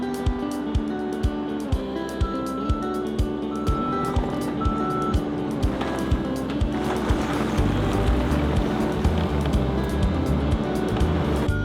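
A pump truck pulls forward into a small driveway by a house under roofing work, with regular reversing beeps pulsing steadily over a rumbling engine and a mechanical drone, fairly close.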